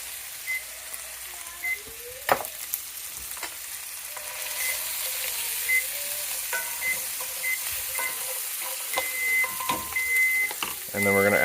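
Carrots hitting a hot pan in a home kitchen, a broad steady sizzle and frying hiss that holds through the clip with scattered clinks and stirring knocks, close and moderately loud, with someone talking over it at times.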